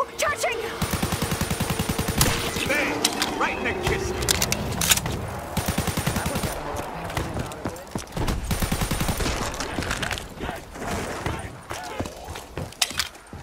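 Rapid automatic gunfire in the Call of Duty Black Ops 3 Zombies game, dense bursts of shots layered with game effects and a voice talking over the action.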